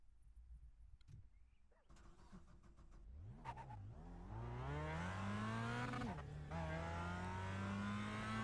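A Mazda MX-5 race car leaves the pits at Okayama's short circuit in a racing game, with quiet idling and clunks before the engine revs up loudly and climbs steadily in pitch, dips at a gear change, then keeps pulling hard.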